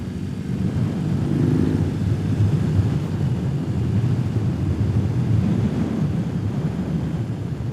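A 2021 BMW R18 cruising at low revs, its big twin-cylinder boxer engine giving a continuous deep throb mixed with heavy wind buffeting, loud and close for several seconds with no talking.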